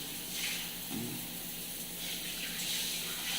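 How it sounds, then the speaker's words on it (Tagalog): Water runs steadily from a tap with a constant rushing splash, fairly quiet and unbroken, rising slightly toward the end. "kusog ilang tubig diri."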